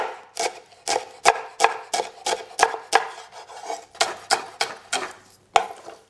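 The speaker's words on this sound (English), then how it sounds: "So just going to finely chop that." Vegetables being finely chopped for a sofrito, a steady rapid series of crisp knife strikes on a cutting board, close and clear with no talk over them.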